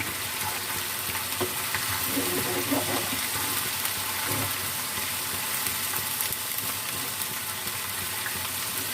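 Chicken pieces and sliced onion fry on a high flame with ginger garlic paste stirred in, for a chicken biryani. A steady, dense sizzle runs throughout, close up and fairly loud, with faint stirring scrapes and no talking.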